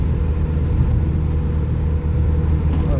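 Cars passing on an icy road below a rise, a steady low engine rumble and tire drone holding at even volume from a moderate distance, with no voices.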